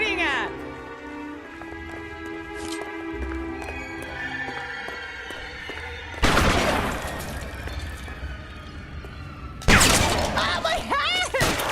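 Gunfire in a shooting video game comes as two sharp, loud bursts of shots with clattering tails, set against game music and a talking voice.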